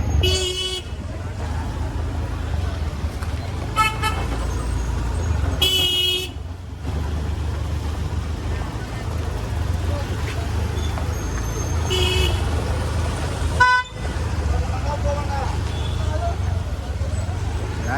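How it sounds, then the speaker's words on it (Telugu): Heavy traffic during the Mahashivratri festival in Vemulawada, with steady road rumble and several loud car horn toots and honks at intervals, some long, some short, over a constant vehicle drone. "ట్రాఫిక్ కూడా ఘోరంగా ఉంది"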